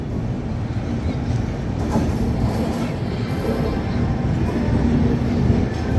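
A train rumbles at a station platform, a steady loud rolling roar with faint clatter of cars and wheels; the Netaji Express or Kalka Mail stands nearby.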